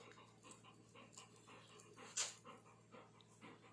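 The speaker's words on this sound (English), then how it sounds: "You crazy dog" A dog named Skyy panting in quick, soft, rhythmic breaths close by, with a brief high whimper partway through, over a faint background hum.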